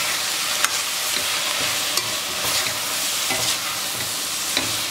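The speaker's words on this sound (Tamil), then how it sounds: "நல்லா மிக்ஸ் பண்ணிக்கோங்க." Vegetables tossed with subzi masala in a hot pan for biryani, a continuous loud sizzle with occasional faint clicks of the spoon against the pan, close up and free of speech.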